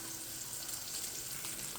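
Pork chops fry in a pan over a farm cooking fire, giving a steady, even sizzle that holds without pause. The sizzle stays fairly soft and close, with no talk over it.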